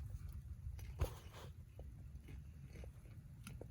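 Close, steady chewing and crunching of burnt Jiffy Pop stovetop popcorn inside a hot tent on a rainy day, with one sharper bite near the start and soft mouth noises throughout.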